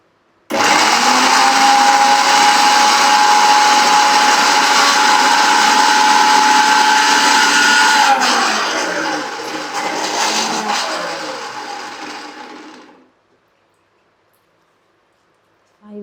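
A mixer grinder grinds cumin and spices in a steady, loud, high-pitched whir that runs for about twelve seconds, then winds down and cuts off, with the motor slowing audibly before silence.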